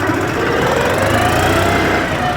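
A New Holland 5510 Excel 4wd tractor engine runs in low gear, a loud, steady, close-up diesel drone with a knocking rumble and no break.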